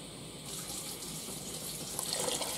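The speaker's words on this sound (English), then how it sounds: "Now what I'm doing is I'm adding water." Tap water pours steadily into a slow cooker pot while making taco soup, a soft continuous splashing stream, fairly faint and with no talking.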